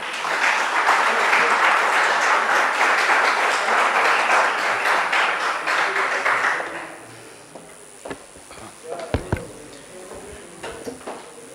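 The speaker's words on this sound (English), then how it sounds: "let's give him a huge round of applause" Audience applause at an engineering conference welcoming a session chair, a full burst of clapping for about seven seconds that stops abruptly, followed by quiet room noise with a few scattered taps and knocks.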